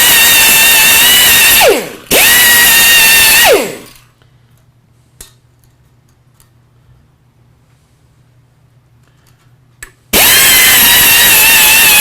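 A power tool strips paint off a metal boat fork in loud, sustained bursts: two close runs that each wind down with a falling whine, a long quiet pause, then the tool starts up again.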